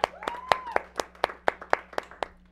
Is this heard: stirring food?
no